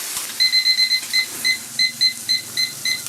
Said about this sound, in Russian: Вон, Ярослава, таймер сработал.